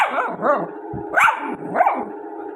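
A dog barks several times in short, close bursts, with brief pauses between the barks.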